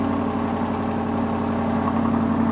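Corvette C8 Stingray fitted with an aftermarket Kravovich exhaust, idling loudly after startup, a steady deep rumble with a fast even pulse held close and unbroken throughout.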